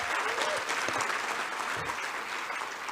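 Applause for a sponsor at the Mail and Guardian 200 Young South Africans awards ceremony, a sizeable audience clapping in a steady, dense roar heard from within the hall, unbroken by speech.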